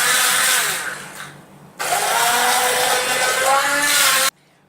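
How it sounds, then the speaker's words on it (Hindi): Hand blender whirring while mixing a pineapple panna drink, a loud close buzzing motor that dips briefly, surges again and then cuts off sharply near the end. "अभी मैं इसको हैंड ब्लेंडर से जो है मिक्स कर लूँगी।"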